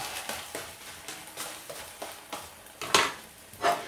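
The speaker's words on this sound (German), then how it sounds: "Ich muss den Pfannkuchen wenden." A pancake fries in a heavy iron pan, giving a low steady sizzle with a run of soft rhythmic scraping strokes and two sharper metallic clinks near the end, close by with no voices.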